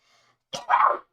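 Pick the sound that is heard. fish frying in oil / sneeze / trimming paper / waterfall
sneeze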